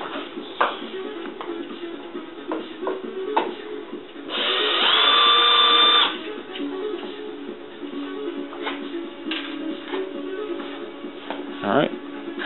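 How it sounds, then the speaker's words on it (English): A power drill whines for about two seconds, drilling out rivets on a 1970 Triumph TR6 passenger door, with scattered taps and shuffling handling sounds before and after. "And just drilling out the rivets."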